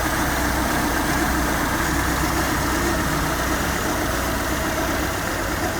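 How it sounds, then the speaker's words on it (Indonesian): Steady, even idle from a 1986 Honda Accord Prestige engine, heard close and continuous with a dense mechanical hum and no talking. "sekarang kita coba guys, kita starter suara mesinnya kayak apa ya"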